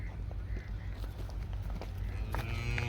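A Cholistani cross heifer moos on a farm, low and fairly close, a drawn-out call set against steady background noise.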